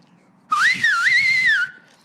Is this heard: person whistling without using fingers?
yes